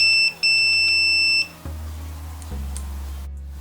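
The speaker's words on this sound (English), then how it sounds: "turn on the sound alarm so you get a nice beep when we have contact" A steady high-pitched electronic multimeter continuity beep, broken by short gaps, sounds up close for about a second and a half and then stops, leaving a low hum.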